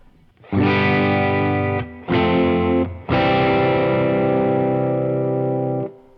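Three heavily overdriven electric guitar chords through a King of Tone pedal into a Deluxe Reverb amp ring out, the first two cut short and the last held and sustained before stopping.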